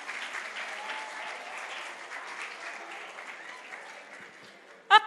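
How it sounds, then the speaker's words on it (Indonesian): A church congregation applauds together at an Easter school service, a steady even clapping that holds for several seconds before a brief louder burst near the end. "Tepuk tangan dulu dong buat kita semua."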